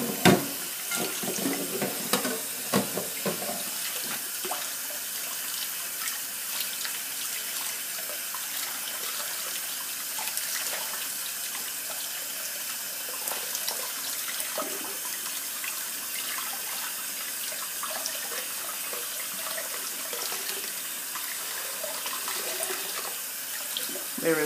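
A running tap rinsing a wig of natural hair during a co-wash, a steady close hiss of flowing water with splashy bursts near the start, continuing alone without talk.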